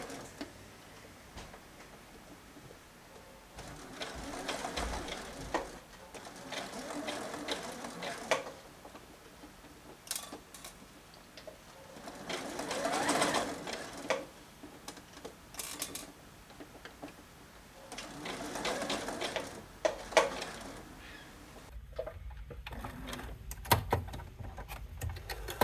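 A sewing machine runs a 2.8-length straight stitch along the edges of twill tape on a T-shirt, clattering in repeated mechanical bursts with short pauses between runs, close and moderately loud.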